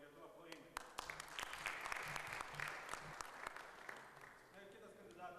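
Audience applause at a Kaunas mayoral candidates' debate, steady clapping from a room of people filling the whole stretch, swelling slightly in the middle and tapering toward the end.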